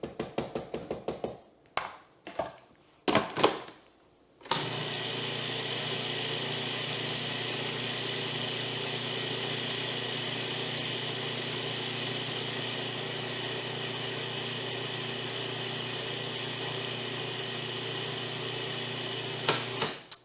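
Food processor blending an almond coconut crust: a few short pulses at the start, then a long, steady whirring motor run that continues for about fifteen seconds before stopping, with no talking.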